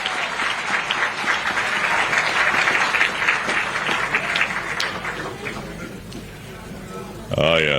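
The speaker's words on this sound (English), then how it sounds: "Let's applaud the teachers and the learners." Audience applauding teachers and learners at a gathering, a loud sustained round of clapping that swells and then tapers off, ending with a speaker's voice.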